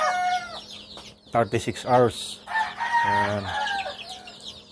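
Free-range chickens cluck and a rooster crows close by in a farmyard, with bursts of squawking between quieter calls while a person speaks over them.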